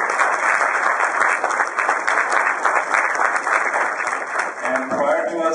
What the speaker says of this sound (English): A round of applause, please, for everybody.